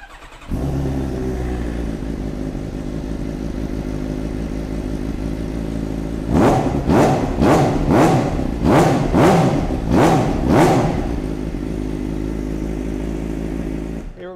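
Suzuki GSX-R750 L6 sports bike engine fires up and idles steadily, then gets about six sharp, loud, close revs in quick succession before settling back to a throbbing idle.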